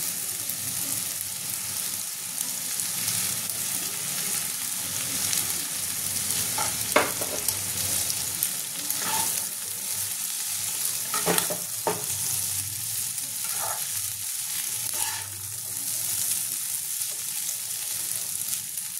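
Boiled chowmein noodles fry in a hot pan for a Bengali-style chicken chowmein, a constant close sizzle with scattered clinks and scrapes as a utensil stirs them, no talking heard.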